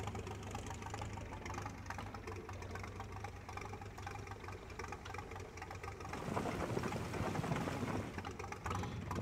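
A 1922-era tractor engine in Farming Simulator 22 runs with a steady low mechanical ticking and knocking idle, continuous and fairly quiet, swelling slightly toward the end.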